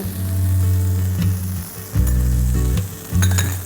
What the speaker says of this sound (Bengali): সবশেষে আমি একটু 1 চা চামচ আমি ঘি দিয়ে দিব